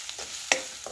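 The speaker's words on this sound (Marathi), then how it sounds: "मसाले जरा तेलामध्ये चांगले परतून घ्यायचे जे सारे कच्चे नाही राहत।" Spices with turmeric and coriander powder sautéing in hot oil in a pan, a faint soft sizzle broken by a few brief stirring scrapes, one sharper clink midway.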